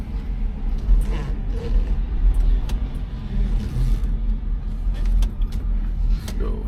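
A 2003 Mercury Marauder car's engine rumbles steadily from inside the cabin while driving, a low continuous drone with slight surges of throttle and no talk.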